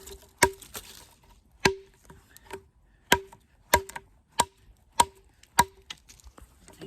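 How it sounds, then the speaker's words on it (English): ESEE 6 knife with custom grips chopping wood, about ten sharp, close, woody thwacks at an irregular steady pace with quiet pauses between strikes. "Do a little bit more chopping with my Esee 6 using these Carrol Custom Grips."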